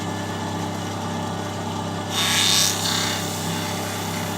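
Jarrah wood is sanded with 400 grit abrasive against a steady whirring machine hum, with a brief brighter rasping burst of abrasive contact partway through, close and moderately loud.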